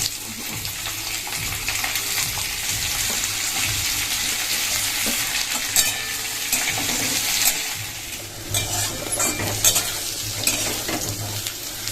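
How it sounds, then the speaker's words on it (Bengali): Potato, pointed gourd and jackfruit seeds fry together in hot oil in a pan, a continuous loud sizzle with occasional stirring scrapes and crackles, no talking over it. "কাঁঠালের আটি পটল সব কিছু একবারে ভেজে নাও"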